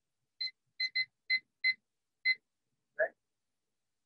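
A kitchen timer beeps during a Weber grill demonstration, sounding six short, clear electronic double-tone chirps in an uneven rhythm, followed by a brief lower tone, in an otherwise quiet setting.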